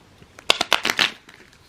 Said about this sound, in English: This is a new deck, so it's still like really hard to shuffle.